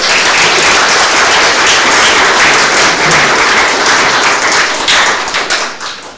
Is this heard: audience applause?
yes